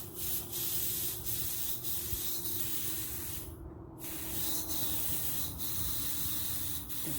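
GREAT STUFF insulation foam sealant sprays steadily into rust holes on a 1965 Ford Thunderbird, a continuous close hiss with brief repeated ticks and one short break, no talking.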